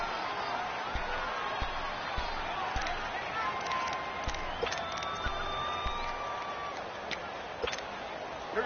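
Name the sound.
stadium crowd cheering in an American football video game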